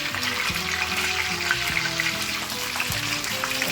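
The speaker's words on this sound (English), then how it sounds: "Just cook it fry it for another 1 minute and then flip it over" Pomfret fish frying in a pan: a steady, dense sizzle of hot oil with faint crackles and a low bubbling hum underneath, close and continuous.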